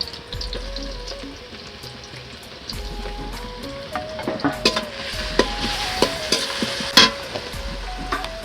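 Garlic paste fries in oil for ghugni with a constant sizzle, while a spoon clinks and scrapes against the pan in quickening taps toward the end, close and moderately loud, no talking.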